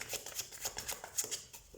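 Tarot cards being shuffled by hand, a soft quick run of papery riffles and flicks repeating in steady bursts, quiet and close.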